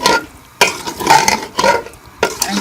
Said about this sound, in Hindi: इसको भी हम मसाले में अच्छी तरह से भून लेंगे।